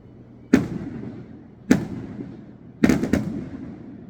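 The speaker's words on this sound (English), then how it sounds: "I'm trying to work and they're doing firecrackers." Firecrackers set off outdoors on the 4th of July: four sharp, loud bangs, two spaced about a second apart followed by a quick double, each leaving a rumbling echo that fades into a quiet background.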